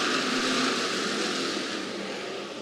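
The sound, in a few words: IMCA race cars accelerating on Clay County Speedway clay track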